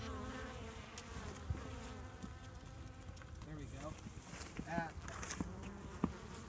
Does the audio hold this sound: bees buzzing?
yes